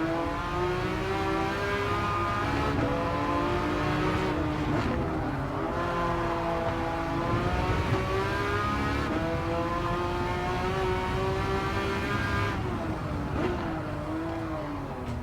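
Race car in the video game Gran Turismo 7, its engine droning steadily at high revs with pitch rising and dipping through gear changes and corners, loud and continuous throughout, with occasional tire squeal.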